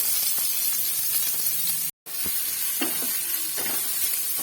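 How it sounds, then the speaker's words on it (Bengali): Onion sautéing in about two tablespoons of olive oil in a pan, a steady broadband sizzle with a brief gap of silence midway and a few soft stirring clicks. "পেঁয়াজটা একটুখানি হালকা সতে করে নেব"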